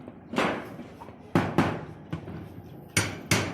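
A hammer pulling nails from an old roof strikes sharply several times at irregular intervals, loud and close, with quiet pauses between the blows.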